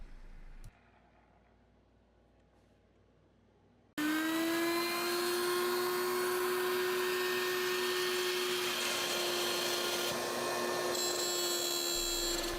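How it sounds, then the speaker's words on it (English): A router bit cuts a groove right through a wooden cutting board. After a few quiet seconds the router kicks in with a loud, steady, high-pitched whine that holds to the end. "We're going to increase the depth on the router bit and cut that all the way through the board."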